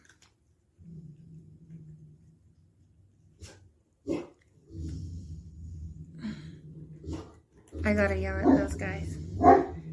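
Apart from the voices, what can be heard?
dogs barking outside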